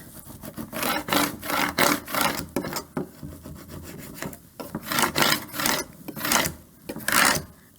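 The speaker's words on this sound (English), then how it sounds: "And now I can use my scraper tool to burnish it onto the board." A scraper tool burnishes transfer tape onto a wooden board for a Cricut welcome sign, making quick repeated rubbing, rasping strokes in a steady back-and-forth rhythm, close and loud with no talking.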